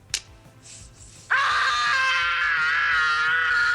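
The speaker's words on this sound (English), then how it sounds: "his most iconic scene in the movie is the one where he does the screaming with his hands on his face" A boy in the Home Alone aftershave scene lets out a loud, sustained scream close up. It starts abruptly after a few soft knocks and rustles and holds steady, shrill and unbroken, until the end.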